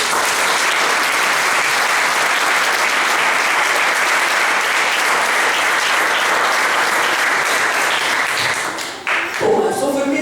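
A church congregation applauds loudly and steadily for about nine seconds, a dense wash of clapping that dips briefly near the end as a few voices come through.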